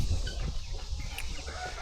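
Hungry Isa Red Star chicks and hens cluck and chatter in a coop, a dense, continuous flock noise with no talking.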